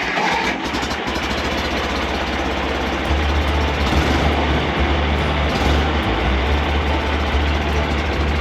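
An old, faulty John Deere 1020 tractor engine running close by, a loud steady diesel rumble that deepens and settles into a firmer idle partway through, with no one speaking.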